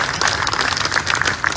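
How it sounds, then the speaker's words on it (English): Audience applause at a Nigerian Medical Association national executive council meeting, a dense, steady wash of many hands clapping for a speaker, loud and continuous throughout. "Please, a resounding round of applause for him."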